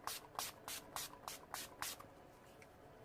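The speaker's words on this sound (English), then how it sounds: "I poured my NYX setting spray." A NYX makeup setting spray being spritzed in six quick, evenly spaced bursts, close and fairly soft, followed by a pause and a brief louder knock at the end.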